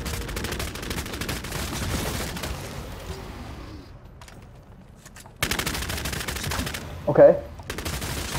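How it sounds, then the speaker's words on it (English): Gunfire crackles in rapid, dense bursts in Vampire: The Masquerade - Bloodhunt, going quiet for a moment and then starting again loudly, with a brief spoken word partway through. "I hear some more shooting over here."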